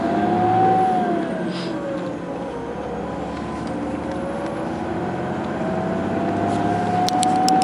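A car driving along a country road past a village hums with a steady, fairly loud engine and tyre rumble, the pitch shifting gently with speed and a few light rattles near the end.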